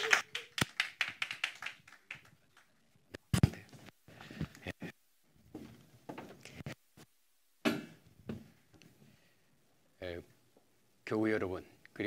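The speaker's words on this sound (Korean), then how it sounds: "큰 환영과 기대의 박수 해주시면 감사하겠습니다" A lecture audience applauds to welcome a former constitutional court justice, with a short run of sharp, separate claps, then scattered bursts of clapping broken by silences and a few spoken words.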